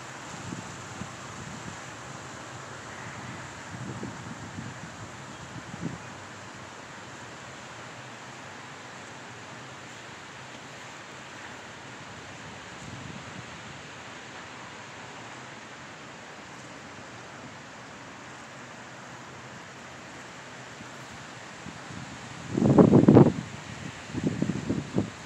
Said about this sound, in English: See just how breezy it is.